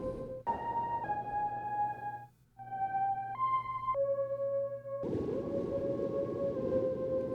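Sustained synth-like tones come from a MOOD MKII ambient pedal shaped by an envelope and reverb, a series of held pitches stepping up and down with short gaps and one brief silence.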